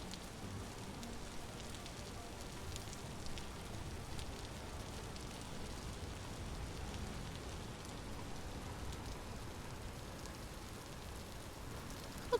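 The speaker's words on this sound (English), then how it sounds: "I love the rain sounds in this game." Steady rain patters softly and evenly throughout in the video game Vintage Story, a faint, continuous hiss with no talking.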